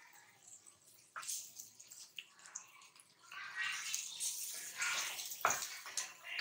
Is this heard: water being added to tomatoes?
yes